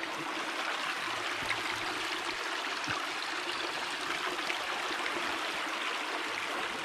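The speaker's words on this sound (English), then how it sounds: "look at that beautiful creek" A shallow creek flows steadily, a continuous close rushing and trickling of water with no pauses, outdoors at a creek used for tubing.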